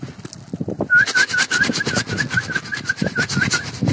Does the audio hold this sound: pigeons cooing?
yes